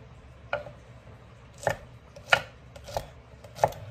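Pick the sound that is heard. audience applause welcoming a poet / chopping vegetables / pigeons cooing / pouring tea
chopping vegetables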